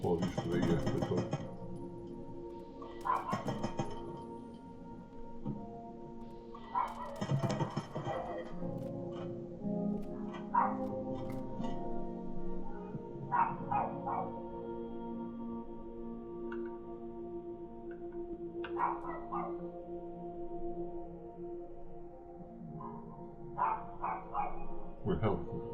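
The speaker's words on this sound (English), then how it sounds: "Apologies for the dog." A dog barks and yips in short bursts at moderate distance, recurring every few seconds over a steady background and scattered talk.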